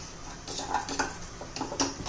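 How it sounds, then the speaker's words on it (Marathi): Roasted semolina goes into a pan for carrot burfi, with light metallic clinks of spoon against pan and a soft pouring rustle, close and brief. "आपण याच्यामध्ये रवा घालून घेऊया भाजलेला रवा घालायचा आहे"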